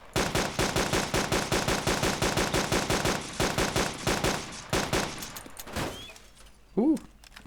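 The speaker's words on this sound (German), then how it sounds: "Ich schieße auf ihn." Rapid automatic gunfire in the video game DayZ, a long loud burst of fast evenly spaced shots that thins into scattered single shots, then a short voice near the end.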